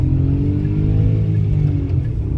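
Kia Picanto 1.0 automatic pulls hard at full throttle, a loud, close engine drone climbing steadily in pitch without a break, with no talking.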